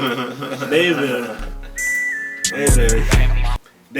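A high, steady whistle tone rises and holds for a couple of seconds amid talking and background music, then cuts off.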